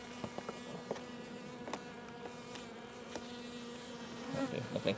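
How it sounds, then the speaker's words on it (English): A bee buzzes close by outdoors, its whining drone swelling and fading as it darts around, with scattered clicks and knocks in the background and a louder pass near the end. "I've got a bee attacking you"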